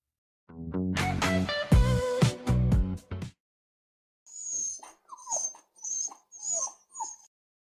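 A dog whimpers and whines in a burst of excited, pitched cries, then after a short pause gives several quick, breathy sniffing puffs, close and clear with no talking.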